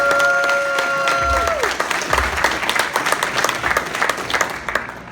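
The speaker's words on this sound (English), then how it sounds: "Give Big J a round of applause for putting on Fitcon." A Fitcon crowd bursts into loud, dense applause that starts strong and slowly thins into scattered claps, with a few held musical tones fading out near the start.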